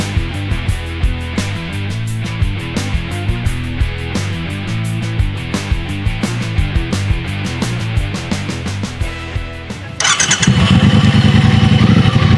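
A Triumph Bonneville Bobber motorcycle engine idles with a deep, even throb, then abruptly roars louder and rougher near the end. It is close and loud.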